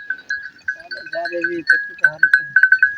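A herd of about 7 sheep and 15 goats bleat in quick succession, a chorus of wavering nasal calls that grows more rapid toward the end, loud and close.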